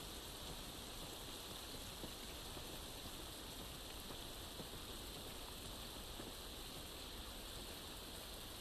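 Steady, faint rain hisses continuously in the video game The Last of Us, a constant wash of water with no pauses or voices.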